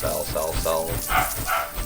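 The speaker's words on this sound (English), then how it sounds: "dog is very borky right now" A dog in Baldur's Gate 3 gives a quick run of sharp barks, five or six in an uneven burst, close and fairly loud, with a voice talking over parts of it.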